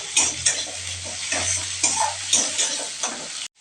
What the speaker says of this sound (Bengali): দিয়ে ভালো করে ভেজে নিতে হবে।